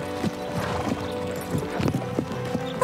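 A cartoon horse galloping, quick rhythmic clip-clop hoofbeats close up with brief snorting sounds.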